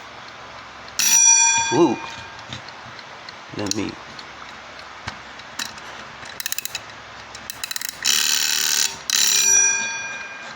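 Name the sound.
mechanical wind-up alarm clock ringing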